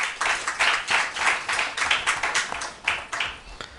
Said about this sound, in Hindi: बहुत ज़ोर से तालियां होनी चाहिए इनके लिए